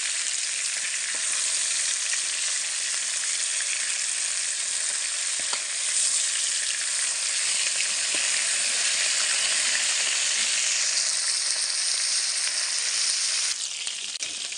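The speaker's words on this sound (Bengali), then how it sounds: "এবার মাছগুলোকে আমি উল্টে ভালো করে ভেজে নেব।" Fish pieces frying in hot mustard oil for a Bengali fish curry, a steady loud sizzle with faint crackle filling the whole stretch, no talking.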